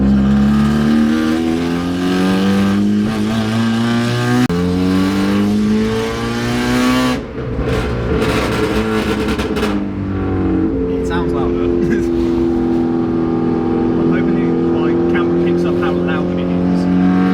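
Onboard a Nissan Micra K11, the engine roars loudly and climbs through revs in rising harmonic sweeps, dipping briefly at a gear change before pulling hard again, with a voice talking over it.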